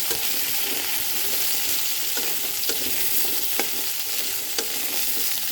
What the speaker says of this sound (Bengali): আমি একেবারেই সব কিছু একসাথে ভেজে নিলাম